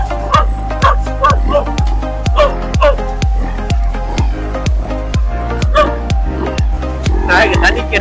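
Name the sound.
dog barking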